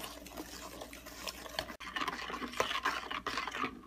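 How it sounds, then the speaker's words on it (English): Cake batter with buttermilk stirred in a bowl for a coffee cake, a steady run of soft wet scraping and sloshing strokes, close and alone with no talk. "Mix it well."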